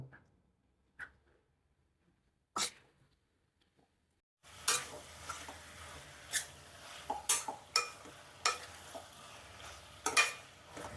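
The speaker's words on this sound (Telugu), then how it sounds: "ఇప్పుడు మనం ముందుగానే శుభ్రంగా కడిగి పెట్టుకున్న ఒక హాఫ్ కేజీ బోన్లెస్ చికెన్ కూడా ఇందులో వేసుకుందాం" Boneless chicken and tomatoes go into a pan: after a few quiet clinks of a utensil, a loud sizzle of frying starts and continues under repeated metal stirring clinks, with no voices.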